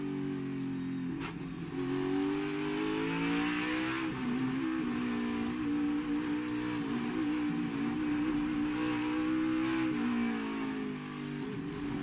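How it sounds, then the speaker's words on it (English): NASCAR Cup Series race cars at the Indianapolis road course drone on partial throttle through a sequence of corners, a steady low engine note shifting gently in pitch, heard from onboard at moderate loudness without talk. "Listening to the throttle there through turns 8, 9, and 10, you can hear them, all these guys having to apply just some throttle to get through those corners"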